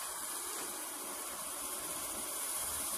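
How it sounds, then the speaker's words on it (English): A handheld steamer aimed at a synthetic wig gives off a steady, even hiss of hot steam, faint and continuous throughout with no talking. "I'm keeping my hand away from the hot steam because the steam can burn you"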